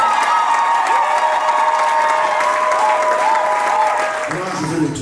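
A wedding congregation applauds loudly and steadily, with cheering voices mixed into the dense clapping, which eases slightly near the end.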